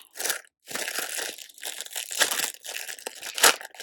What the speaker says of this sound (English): let's open the sticker packs.